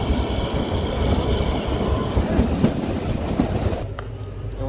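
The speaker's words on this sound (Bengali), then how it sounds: "আমাদের ট্রেন এসে পৌঁছালো কান্দাঘাট স্টেশন।" A Kalka–Shimla toy train runs along its rails into Kandaghat station, a steady, close rumble with dense wheel clatter that drops sharply near the end as it slows.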